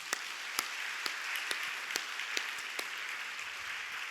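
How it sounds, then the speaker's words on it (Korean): Church congregation applauding during a Friday late-night prayer meeting, a steady, fairly soft patter of many hands with a few distinct sharper claps near the front, continuous and without talk. "자, 우리 박수해줘요."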